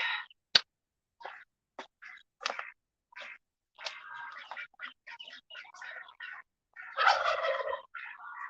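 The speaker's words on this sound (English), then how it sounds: "enjoy listening to the ducks, the chickens, everybody else" Ducks quack and chickens cluck nearby in a garden chicken yard, in scattered bursts, with short gaps of silence between the calls and a louder squabble near the end.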